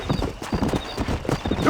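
A horse in Red Dead Redemption gallops with rapid, close, loud hoofbeats in a quick rhythm for a moment.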